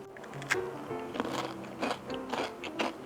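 Dry ladyfinger biscuits crunch under repeated bites close to the ear, each crisp crackling snap followed by chewing, about five bites in a loose rhythm with no talk.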